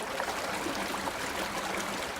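Sewage from house pipes pouring into an urban stream in Sapopemba, São Paulo, a continuous close rushing and splashing of water.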